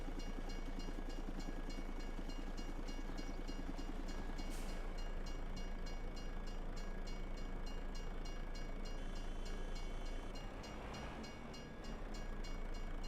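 A train passing during harvest season, a continuous loud rumble and clatter of rail cars that holds steady and dips slightly near the end, with no talk over it.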